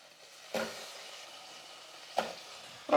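Brinjal and drumstick pieces sauté with onion and tomato in a pan for sambar, under a soft continuous sizzle broken by three sharp ladle scrapes or knocks against the vessel.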